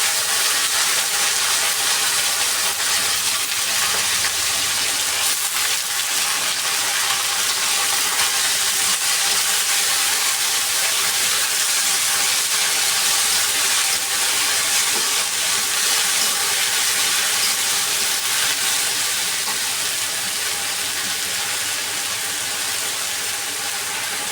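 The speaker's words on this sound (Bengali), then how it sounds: "এখন একদম ভাজা ভাজা করে নিব শাকটাকে" Leafy greens fry with onion, green chilies and salt in a pan, making a loud, continuous sizzling hiss that holds steady throughout with no voices.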